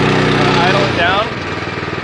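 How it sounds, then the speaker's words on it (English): An N Star FMS engine runs loud and close, then its steady drone drops in pitch as it idles down, with someone talking over it. "Idle it down."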